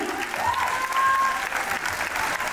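Audience applause thanks the sponsor Boudoir du Regard at a French-speaking prize ceremony, a steady, fairly loud patter of many hands lasting throughout, with a faint whistle-like tone sliding across the middle.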